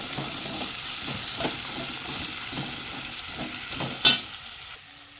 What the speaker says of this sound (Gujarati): શાકને ચલાવો થોડું મિક્સ કરી લઈશું બધું